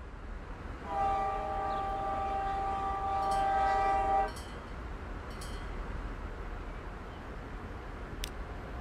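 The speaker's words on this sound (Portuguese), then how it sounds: "já coloquei o trem pra rodar." A train in the game Transport Fever 2 rolls along with a low rumble, sounding a sustained multi-tone horn for about three seconds before the steady rolling noise continues under faint clanks.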